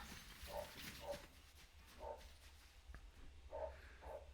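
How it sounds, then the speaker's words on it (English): A dog barks a few times in the background, faint and distant, in short spaced yaps against a quiet room with low hum. "By the way, if you hear my dog,"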